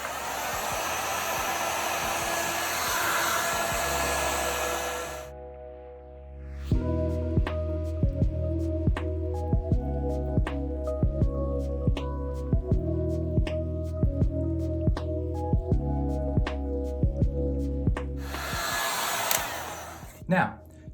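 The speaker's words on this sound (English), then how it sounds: "our heat gun is nice and hot and ready to go" A hot heat gun blows air onto a wooden piece to darken a burned design, giving a steady, loud airy roar that runs alone for several seconds at the start and returns near the end.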